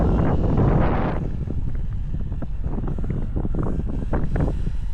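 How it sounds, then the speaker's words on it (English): Gusty outdoor wind buffets the microphone with a steady low rumble and broadband roar, loudest in a burst at the start, then continuing with fluttering gusts. "It is windy today,"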